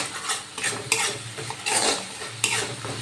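Spices with ginger paste and turmeric stir-fried in oil without water for a coriander rui fish dish: a spatula scrapes the pan in repeated rhythmic strokes over a soft, continuous sizzle, close up, no talking.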